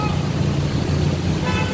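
Congested afternoon traffic on Jalan Raya Darmo in Surabaya makes a dense, steady engine roar, with honking car horns sounding over it and voices talking nearby.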